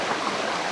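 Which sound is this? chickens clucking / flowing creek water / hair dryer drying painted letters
flowing creek water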